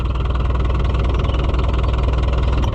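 A White Iseki 2-65 tractor engine runs steadily and loudly close by, with an even rhythmic diesel chug and no voices.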